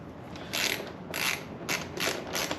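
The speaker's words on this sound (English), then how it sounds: "10mm socket on a ratchet wrench and a 5mm Allen key" A ratchet wrench with a 10mm socket undoes a bike seat bolt, giving repeated bursts of close, crisp clicking with short pauses between strokes.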